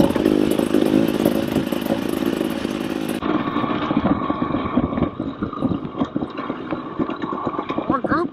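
A KTM TE300 two-stroke dirt bike riding singletrack at Mountain Ridge ATV Park, its engine buzzing and revving loudly and continuously up close, with wind rumble and rough, varying throttle.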